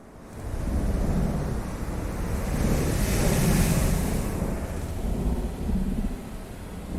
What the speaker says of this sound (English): You still continue to hear the waves crashing throughout the area.